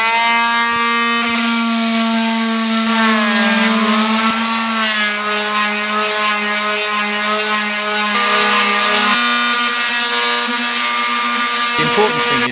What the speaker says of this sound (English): I'm using 100 grit sandpaper on an orbital sander